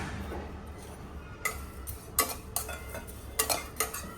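Thick poha (flattened rice) dry-roasting in a pan in a home kitchen, with scattered light scraping and clinking as a utensil stirs it against the metal, arriving in irregular bursts over a quiet background.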